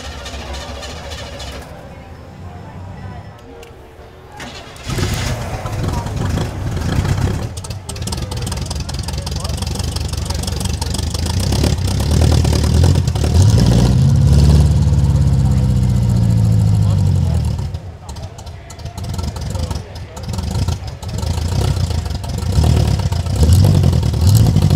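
A Chevy engine in a Cadillac limousine turns over and catches, then revs up and down in loud, rough surges, with some clatter and a few voices nearby.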